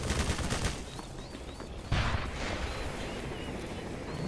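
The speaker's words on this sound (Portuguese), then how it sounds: "Esse merda aí fica atirando míssil" Weapons fire in the Half-Life video game: a dense, continuous roar of missile launches and gunfire, with a sharp heavy blast near the middle before the rumbling barrage carries on.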